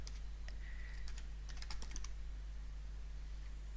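Quick bursts of clicking keys on a computer keyboard as a web address is typed, irregular clusters of taps over a low steady hum, with a pause and then more keystrokes, no talking.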